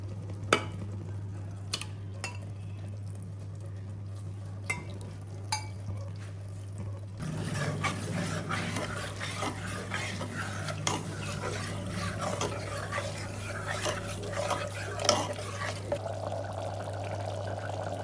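Mutton keema simmering in a semi-liquid gravy in a pan over medium heat, with a steady bubbling sizzle and scattered scraping stirs, quieter at first and then fuller and busier, close up with no talk.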